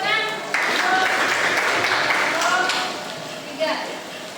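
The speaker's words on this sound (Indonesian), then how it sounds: "Ya, silakan ganti tepuk tangan." Applause from a class during an Islamic studies lesson on the Quran and Hadith: a dense, steady burst of clapping that runs for a couple of seconds, then fades as a teacher's voice carries on.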